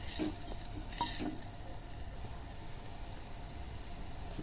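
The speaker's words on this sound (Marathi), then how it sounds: "ते सुद्धा चांगलं व्यवस्थित तेलामध्ये परतून घ्यायचं" Ground coconut and chili paste sautéing in oil in a pan for a Maharashtrian masoor dal amti, a soft steady sizzle with a couple of brief stirring scrapes near the start, no talk.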